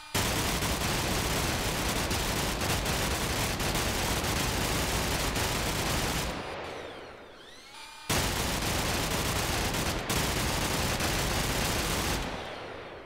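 Automatic assault rifle from the Flans Mod for Minecraft firing loud, dense bursts of shots in a steady stream, two long volleys separated by a brief pause.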